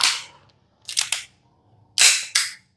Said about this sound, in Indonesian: KJW HKP teman-teman ya suaranya mantap ya ini pakai green case